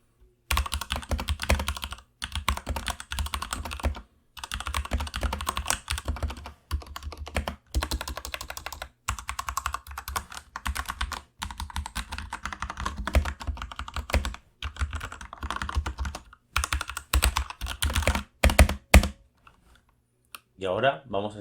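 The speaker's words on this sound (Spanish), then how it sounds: "os voy a dejar un sound test de este teclado para que podáis compararlo con uno que tenga los switches blue" Rapid typing on an RKG87 tenkeyless RGB mechanical keyboard with red switches, dense bursts of close key clacks broken by short pauses, running steadily for about twenty seconds.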